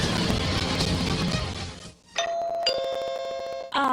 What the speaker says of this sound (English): Ah, the sound of my doorbell.